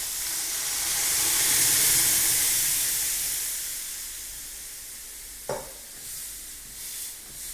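Mung beans tipped into a hot pan of oil hiss and sizzle loudly, the spitting fading to a softer steady fry, with a sharp spoon-on-pan clack around the middle and a few light stirring scrapes after.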